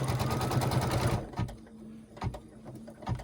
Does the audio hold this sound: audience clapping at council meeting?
no